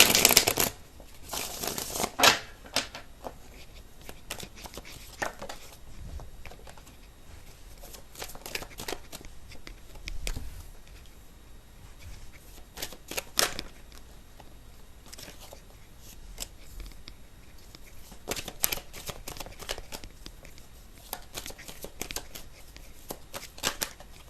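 Tarot cards shuffled by hand in repeated quick riffling bursts, close and crisp, with brief pauses between rounds and no talking.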